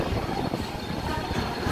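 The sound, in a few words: Mumbai harbour line local train arriving at Thane station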